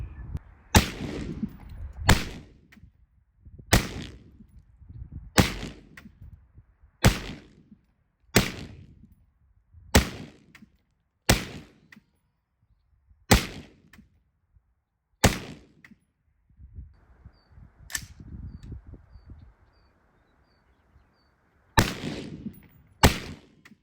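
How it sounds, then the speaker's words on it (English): Gunshots fired into a wooden target, about a dozen loud sharp reports spaced roughly every one to two seconds with brief echoing tails, a short pause with faint background hum, then two more shots at the end. "probably do another 20 shots at it and see if it survives"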